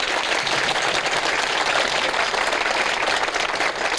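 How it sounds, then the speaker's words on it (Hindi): A studio audience on an Eid special television programme about Sindh's prisons applauds the jail minister. Thick, continuous clapping holds at an even, loud level for the whole stretch. "एक बार अली हसन भाई के लिए तालियां हो जाए।"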